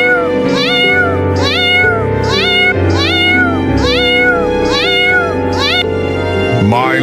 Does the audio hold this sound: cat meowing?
yes